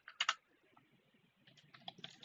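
Fingers tap on a computer keyboard while writing C# code, a few sharp loud clicks followed by a quieter irregular run of keystrokes close by.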